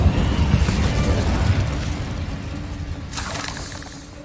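A fire spell cast in the video game Hogwarts Legacy: a loud, sustained fiery whoosh and crackling burst, with a brighter flare of hissing near the end.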